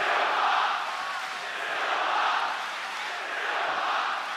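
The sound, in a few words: crowd chanting for fighter Silva at MMA event in Melbourne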